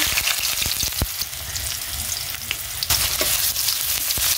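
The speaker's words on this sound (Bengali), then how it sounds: "এখন এই পেঁয়াজটাকে হালকা ভেজে নিচ্ছি।" Chopped onion sizzles lightly in hot soybean oil in a kadai, a steady close frying hiss with a few soft stirring knocks and scrapes, no talking.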